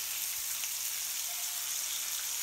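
Thin chicken pieces for Dijon mustard chicken fry in an uncrowded pan, producing a continuous even hiss of sizzling oil up close with no talking.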